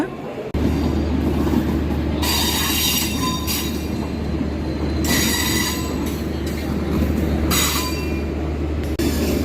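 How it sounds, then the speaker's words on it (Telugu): The Visakha Express, running from Bhubaneswar to Secunderabad, pulls into a station with a loud steady rumble and repeated high wheel squeals on the rails, close by and continuous. "భువనేశ్వర్ నుంచి సికింద్రాబాద్ వెళ్ళే విశాఖ ఎక్స్ప్రెస్ అయితే వచ్చింది"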